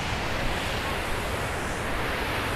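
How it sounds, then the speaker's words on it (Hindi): Fast mountain water rushing down a steep slope on the way from Naran to Babusar Top, a steady dense roar filling the whole clip with no voices. "ये सारा शोर जो हो रहा है ये पानी का आ रहा है"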